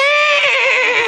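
A horse neighing sound effect, a single loud, close whinny lasting about a second with a shaky, descending tone.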